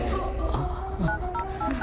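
A telephone is dialed to call the police in a Hindi-dubbed action thriller: a quick series of clear, close keypad tones, several short beeps in an uneven rhythm over a low background.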